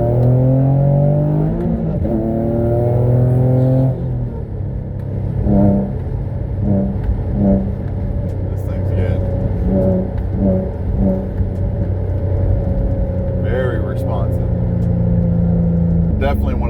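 Infiniti G35 coupe with six-speed manual, lightweight flywheel and single-piece aluminum driveshaft pulling from a roll in second gear; a strong, steadily rising engine drone fills the clip with brief shifts in pitch and someone talking over it.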